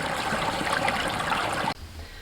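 Water rushes and gurgles steadily down a house drain leading to the road nearby, then cuts off abruptly, leaving quiet outdoor background.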